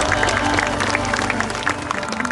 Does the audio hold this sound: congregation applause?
yes